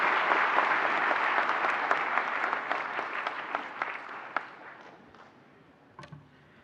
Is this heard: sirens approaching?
no